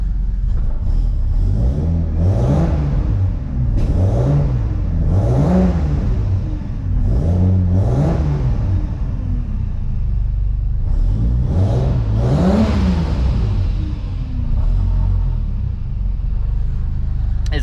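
A cold Toyota Aristo 1JZ engine with a custom exhaust revs repeatedly in short bursts, each rising and falling, loud and close with a deep, rumbling exhaust note.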